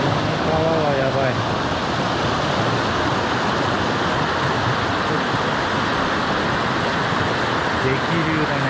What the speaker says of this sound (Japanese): 激流だね。